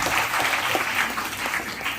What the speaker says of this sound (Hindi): तो क्या एक जोरदार ताली बनती है प्रशासन को?